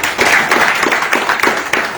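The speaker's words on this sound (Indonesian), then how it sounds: "Untuk itu kita tepuk tangan pada kita." Close, sustained clapping fills the room as officials and guests welcome South Sumatra's fencing team home from PON XX Papua 2021. Many hands beat in a dense, steady patter at a loud, even level, with no talking.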